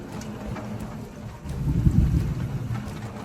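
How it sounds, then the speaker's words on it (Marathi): Hailstorm driven by wind over a farm tent canopy, a steady rough roar of wind and pattering ice that swells louder about halfway through, with no talk. "पूर्ण गारा पाऊस चालू आहे"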